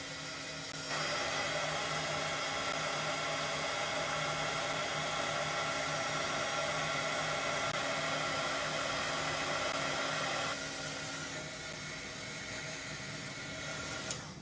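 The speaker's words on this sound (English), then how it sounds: "Let me try to dry it up with using hot gun." A heat gun blows hot air over wet paint on a papercraft fries box, a loud continuous hiss that runs steadily for about ten seconds before easing slightly.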